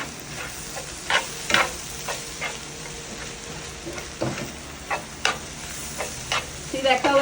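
Tofu with chili spices sizzling in a pan while being stirred for a vegan black bean chili, a soft steady fry under repeated sharp scraping strokes of the spoon at irregular intervals.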